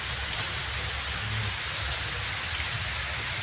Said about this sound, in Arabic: لا حلو والله المطر.